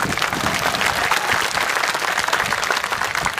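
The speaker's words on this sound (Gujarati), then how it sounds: "જોરદાર તાળીઓ સમાજ માટે થઈ જાય" Loud, dense applause from a huge crowd of community members at an outdoor political rally in Rajkot, sustained and even throughout with no voices standing out.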